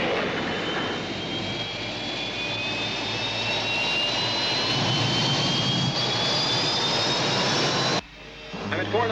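A rescue spaceship moving in a classic sci-fi series, a loud continuous engine roar with rising whistling tones that cuts off abruptly near the end, with voices mixed in.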